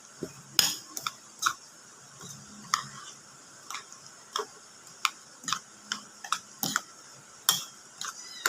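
A spoon clinks and scrapes against a pan while stirring an eggplant dish seasoned with ground pepper, irregular sharp metallic taps spaced through a quiet background.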